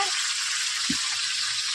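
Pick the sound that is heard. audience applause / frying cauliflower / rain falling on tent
frying cauliflower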